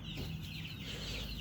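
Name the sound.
young duckling calling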